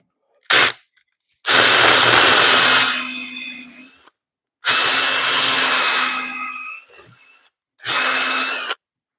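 A Forstner bit bores into spruce in bursts: a brief first touch, then three sustained whining, grinding passes of the drill with silent gaps between them, loud and close.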